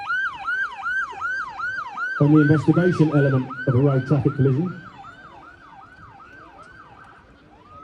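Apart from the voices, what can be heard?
ambulance sirens arriving at road traffic collision demo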